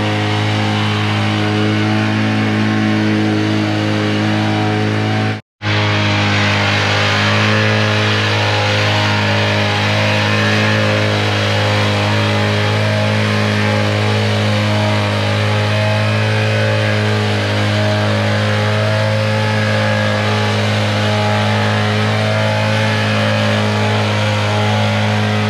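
A truck engine runs at a concrete pour in front of a shop, a loud steady idling drone with a low hum, briefly cut off near the start, then continuing unbroken.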